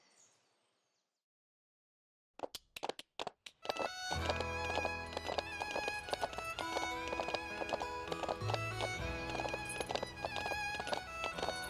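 A horse in The Ranch of Rivershine video game clops along with a few sharp, evenly spaced hoofbeats that give way to busy, steady background music and scattered game effects.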